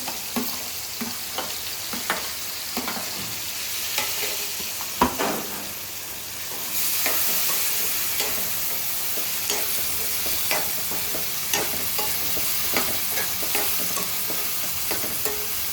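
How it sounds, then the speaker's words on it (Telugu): Thinly sliced onions fry in a pan with a steady, close sizzle while a spoon stirs them, adding repeated scraping taps throughout; the sizzle grows slightly brighter partway through. "సన్నగా కోసుకున్నాం ఉల్లిపాయలు అయితే త్వరగా వేగిపోతాయని"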